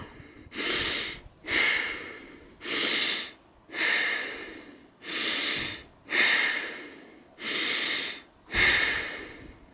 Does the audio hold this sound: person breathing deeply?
yes